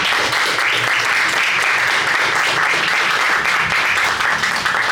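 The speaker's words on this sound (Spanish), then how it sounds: "Un aplauso para José Luis" Sustained, loud crowd applause fills a tribute event in Rímac, a thick, even wash of many hands clapping close by with no break and no voices on top.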